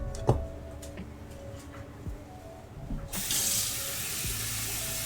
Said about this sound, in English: Cover our taters with water.